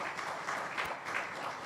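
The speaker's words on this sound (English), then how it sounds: "Please, a round of applause for him." Applause from a law week audience comes as a faint, distant patter of many hands, brief and even throughout.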